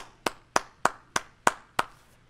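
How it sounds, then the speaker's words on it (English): Six evenly spaced, sharp hand claps from a single person at a graduation hooding ceremony, each crisp and close, with quiet gaps between them and no talk. "let's give them a round of applause"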